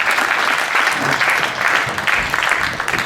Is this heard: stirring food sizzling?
no